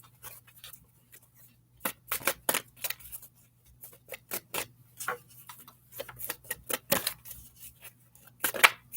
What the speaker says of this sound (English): I'm going to go into the native spirit deck